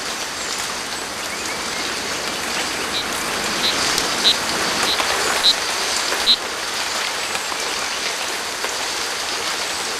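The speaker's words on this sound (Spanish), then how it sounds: "en una hora cae tanta lluvia como la que caería en algunos países durante el año entero" Heavy rain pours down in a Central American rainforest, a dense, constant hiss of drops on foliage that fills the whole stretch, with a few faint high insect or frog chirps sounding briefly midway.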